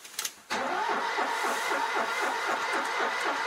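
A Citroen 2CV engine cranks briefly with a few starter whirs, then fires and runs at a steady, slightly uneven rumble, recorded close by.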